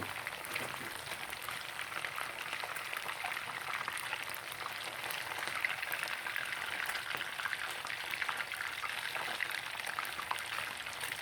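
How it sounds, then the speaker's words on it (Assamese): Fish pieces shallow-fried briefly in hot oil with no turmeric or salt, giving a steady, dense crackling hiss that runs unbroken and fairly close, with no talking. "মাছখিনি নৰম হোৱাৰ কাৰণে অকণমান ভাজি লৈছোঁ"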